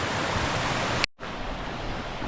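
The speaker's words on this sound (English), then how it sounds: "Probably rare to get to see the creek running." The creek on the Solstice Canyon trail in Malibu, California, running strongly as a loud, steady close-up rush of flowing water, briefly cut to silence for a moment midway and then resuming, with no voices.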